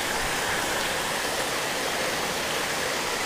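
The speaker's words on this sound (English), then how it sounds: "So just kind of fishing this little waterfall" Small waterfall in a woodland creek: a steady, close, full rushing of falling water, constant and unbroken, with no voices.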